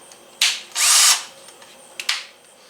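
A Hart cordless drill in a short burst of runs: a quick whir, a longer steady spin near one second, then two brief blips, all close and loud with quiet gaps between.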